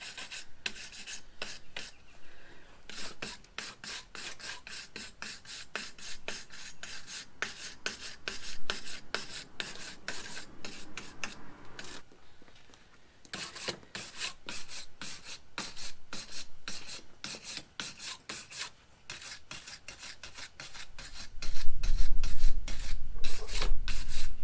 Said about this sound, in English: we're just going to clean some of this rust off of here that's built up over the years